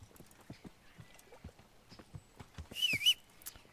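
Soft, irregular horse hoof clip-clops on hard ground in the video game Kingdom Come: Deliverance, then a brief high whinny near the end, fairly quiet overall.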